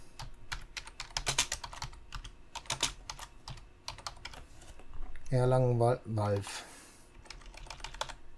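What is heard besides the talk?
typing on a computer keyboard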